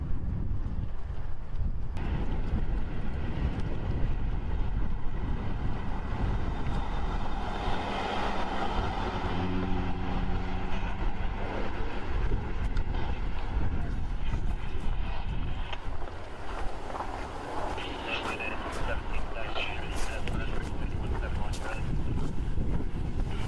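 Strong, dry wind roars steadily into the microphone during a wildfire, a dense rumble that never lets up, with faint talking partly buried beneath it.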